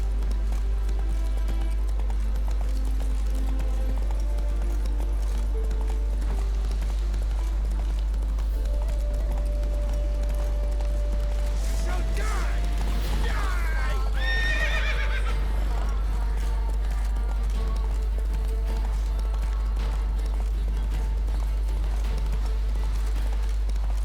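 In The Witcher 3, the horse Roach gallops with steady clip-clop hoofbeats under a constant low hum and gives a clear neigh midway through.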